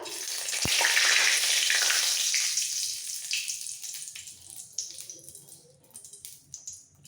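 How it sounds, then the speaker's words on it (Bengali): A bay leaf dropped into hot oil left after frying katla fish pieces, tempering for a fish curry: a loud burst of sizzling that gradually fades into softer crackles and pops, close up and without talk. "এবার এই তেলের মধ্যে ফোড়ন দেব"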